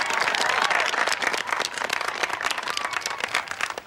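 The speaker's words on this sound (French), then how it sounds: "Je voudrais qu'on l'applaudisse." An audience at a horse show competition breaks into dense applause that swells loudly at first, then tapers off with scattered, uneven claps.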